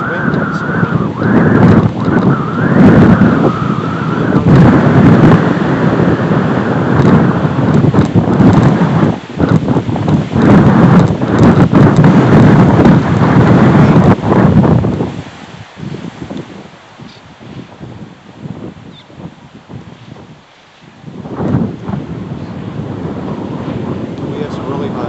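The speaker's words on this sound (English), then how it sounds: "I would expect all this wind this morning." Strong wind buffets the microphone on an old Arkansas River bridge, loud rumbling gusts that drop sharply about midway to a quieter breezy hiss, then briefly rise again.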